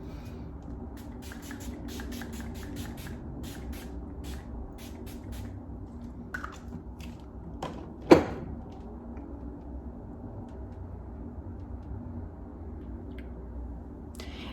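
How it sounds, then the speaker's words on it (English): A single short spritz of rose water setting spray hisses once, near and brief, amid soft background music with light tapping. "I'm just gonna go ahead and do a little bit of setting spray"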